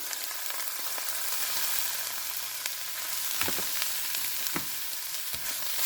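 Drumstick leaves fry in a pan with grated coconut for a tinfish dish, giving a soft, steady sizzle throughout, broken by a few faint spoon or spatula scrapes against the pan. No one speaks.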